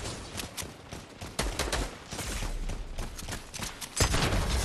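Rapid bursts of automatic gunfire from the Fortnite video game, dense and continuous with sharp cracks throughout and a heavier boom near the end, no talking.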